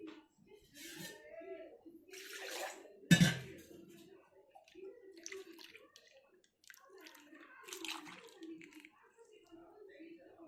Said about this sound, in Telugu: కొంచెం వాటర్ పోద్దామండి.